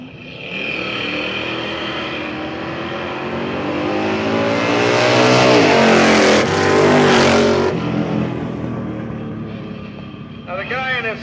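Drag racing cars make time trial runs at a dragstrip, their engines revving loudly and then fading as they pass, with an announcer talking over much of it.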